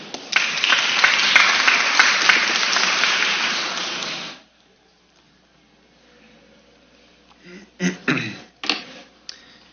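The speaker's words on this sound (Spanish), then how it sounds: "Lo recibimos con aplausos" An audience at an education forum applauds to welcome a speaker, a dense burst of clapping for about four seconds that stops abruptly, followed by quiet room tone with a few scattered knocks and handling noises.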